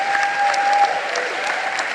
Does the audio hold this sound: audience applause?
yes